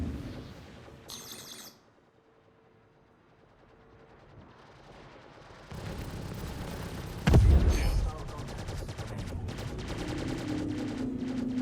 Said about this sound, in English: Something's just constantly shooting.